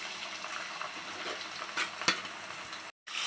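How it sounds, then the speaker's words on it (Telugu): Boiled prawns tipped into a generous amount of hot oil for gonguras prawn pickle, giving a steady close sizzle and crackle with a brief stirring clatter, no talk. "ఇప్పుడు మనం ముందుగా ఉడకబెట్టి పెట్టుకున్న రొయ్యలన్నీ ఆయిల్లో"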